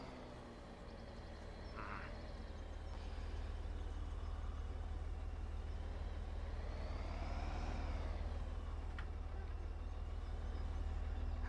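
A truck engine in Farm Simulator 17 drones with a steady low rumble that swells slightly as the revs rise and fall, loud and continuous with no speech.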